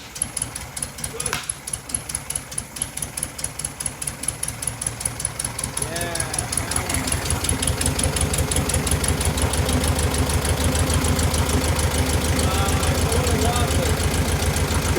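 The engine of a 1973 VW Sports Bug idles after a tune-up with a steady, rhythmic, chugging pulse that grows louder and fuller midway through. Voices can be heard faintly in the background.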